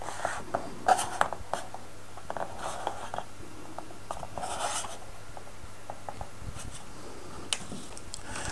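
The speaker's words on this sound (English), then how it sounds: "This inner edge needs filing a slight bevel" A model boat's cockpit window edge is filed to a slight bevel with short, faint scraping strokes, scattered and irregular against a quiet room hum.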